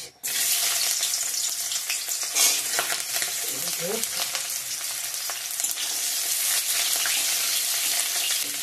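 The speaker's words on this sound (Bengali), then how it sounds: "পেঁয়াজটা একটু ভাজা ভাজা হয়ে গেছে" Onions sizzle steadily in hot oil with dried red chilli and bay leaf, a continuous crackling hiss with occasional stirring scrapes, close and loud throughout.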